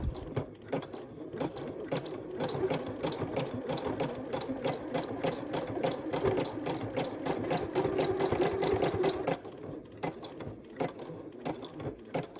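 A sewing machine stitches a coiled fabric rope bowl, its rapid needle chatter running steadily and close for most of the stretch before easing near the end, with no talk.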